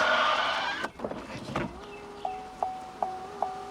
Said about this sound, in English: Let's put the key on, try the windows.